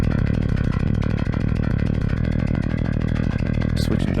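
Fast MIDI bass passage for a particular band's style of tone, notes at maximum velocity: a rapid, clattering, mechanical-sounding low riff, dense and steady at full loudness throughout, with no talk.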